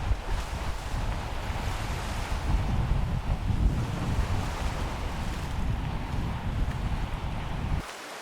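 Sea surf rolling onto a beach in southern Scotland, a steady broadband wash of breaking waves with wind buffeting the microphone, loud and continuous before dropping off abruptly near the end.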